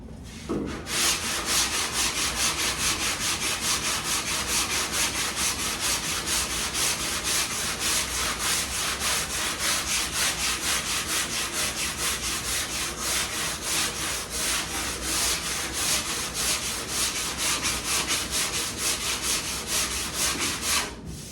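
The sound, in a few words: sanding block sanding car fender primer down toward bare metal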